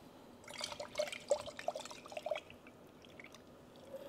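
Coffee water dripping through a pour-over dripper, soft irregular drips and trickles bunched in a quick flurry before thinning out, close and faint against a quiet room.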